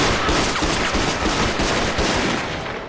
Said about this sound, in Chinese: 你们听，这枪声越来越远了